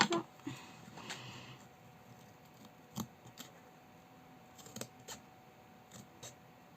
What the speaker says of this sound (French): On va couper ce qui dépasse